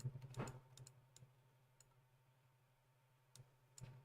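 Mouse clicks while retouching skin blemishes in Photoshop, faint and close, a few sharp clicks near the start and a couple more near the end over a low steady hum.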